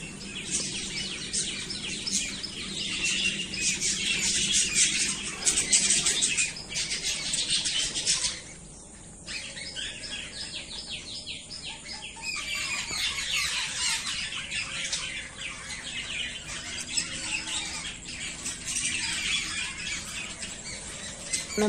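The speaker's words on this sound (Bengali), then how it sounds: "এই সকালে পাখির আওয়াজটা একবার শুনুন" Morning birdsong at a small farm with several kinds of birds: dense, overlapping chirps and loud squawks from nearby, shifting in busy bursts throughout.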